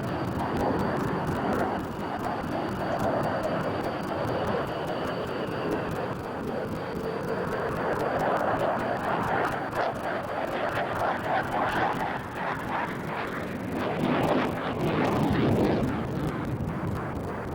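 Dassault Rafale B, the two-seat French Air Force jet, flying at the Farnborough airshow, its engine roar a steady, loud, continuous rush that swells slightly near the end, with no speech over it.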